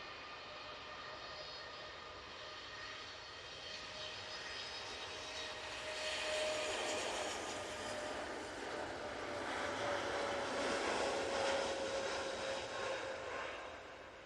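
An airliner on a short positioning flight at Manchester Airport rumbles at a distance, its engine roar rising and holding in a broad, steady wash with a thin whine, fairly faint overall.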